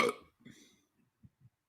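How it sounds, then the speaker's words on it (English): A single loud, close burp at the start, followed by a short gurgly throaty sound and a few faint low bumps, with no talking over it. "sound like you burped"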